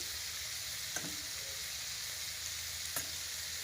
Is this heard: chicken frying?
yes